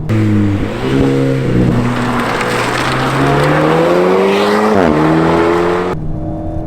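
An Alpine A110 sports car climbs a mountain road, its engine note rising through the revs, dipping sharply at a gear change, then climbing again, loud and close before cutting off near the end.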